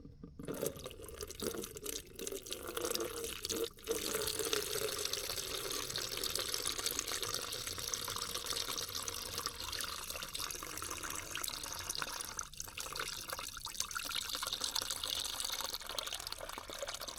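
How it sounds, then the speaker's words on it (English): Water drains steadily from an old truck into a pan, a continuous close trickle and splash that runs unbroken for the whole stretch with no talk over it. "see that water dripping out of there? Let me get a pan, we'll pull the plug out and see how much is actually in there."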